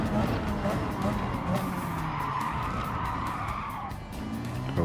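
A race car in a Gran Turismo 7 Le Mans 24 Hour race losing rear grip, with loud sustained tire skidding and squeal over engine roar while someone talks over it.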